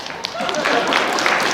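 A concert audience at a high school band and orchestra winter concert applauds, a dense, steady wash of many hands clapping at moderate loudness with a voice faintly underneath.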